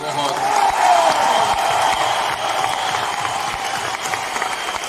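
Applause from a training-session audience honouring Siddharth at a leadership seminar, a steady dense patter of many hands that swells in the first seconds and then continues evenly, loud and close.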